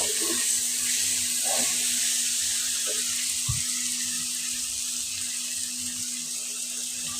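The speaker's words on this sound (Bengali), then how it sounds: "এখন আবার আমি নেড়ে দিব নেড়ে তারপর একটু পানি দিয়ে দিব" Fish curry sautéing in a pan makes a continuous frying sizzle, with a few soft clinks and scrapes of stirring scattered through it, heard close and without speech.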